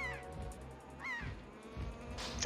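A few faint honking bird calls from The Legend of Zelda: The Wind Waker, brief squawks spaced apart over a quiet game background.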